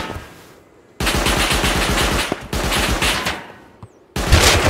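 An auto turret in the game Rust fires fast, steady bursts of loud, close automatic shots. Two long strings are split by brief pauses, and a third burst starts at the end.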